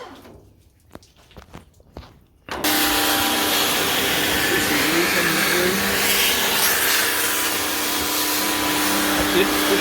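A loud, continuous blasting hiss kicks in abruptly after a quiet stretch of scuffing, roaring on steadily while rust is stripped from a car body.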